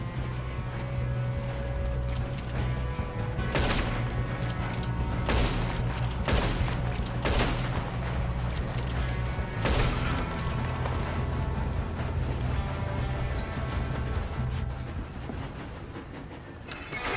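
Gunfire during a train shootout in Red Dead Redemption 2: a volley of sharp shots cracks out at irregular intervals over a steady rumble of the moving train and hoofbeats, loud bursts clustering in the middle then thinning out, no talk.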